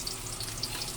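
Onions fry in a pot for sopas, a brief, steady watery sizzle and hiss at moderate volume with no talking.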